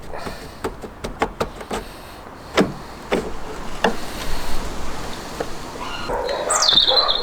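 A dog barks several times in short sharp bursts at moderate distance, with a bird chirping near the end over steady background noise.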